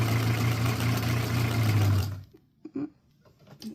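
Sewing machine stitching a teabag bookmark, running in a steady, loud continuous whir for about two seconds before stopping, followed by a few soft clicks and handling noises.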